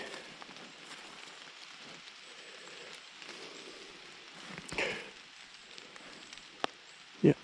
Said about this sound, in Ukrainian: Дощ посилюється